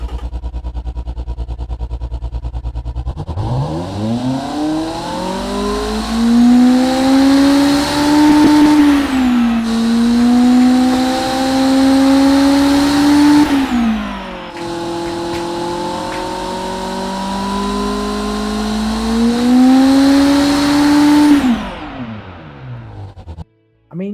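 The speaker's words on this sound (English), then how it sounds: "Let's fire this engine that he called it GT40." A GT40 engine in a video game fires up and revs, its loud engine tone climbing and holding through two long pulls with a brief drop between, then cutting off.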